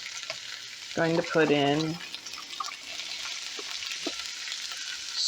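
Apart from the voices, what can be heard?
garlic and jalapenos sizzling as they fry in oil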